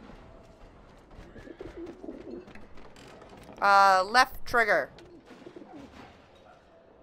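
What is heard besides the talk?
pigeons cooing in video game Alice Madness Returns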